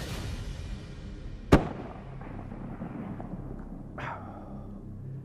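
A single loud, sharp rifle shot fired at a whitetail deer during a hunt. A rolling outdoor echo follows, then quiet, with a fainter thump a few seconds later.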